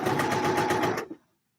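A sewing machine runs at a steady, fast whir while stitching curvy princess seams on a mock-up garment, loud and close for about a second before stopping abruptly into silence.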